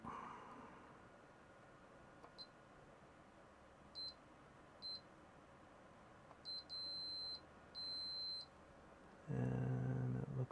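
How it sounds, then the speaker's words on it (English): Small electronic beeps from an Intel 386SX-16 motherboard as its capacitors charge: a few isolated short high chirps, then two longer beeps over faint background hiss, followed by a louder, lower noise at the end. "the small beep is the caps on the board charging up"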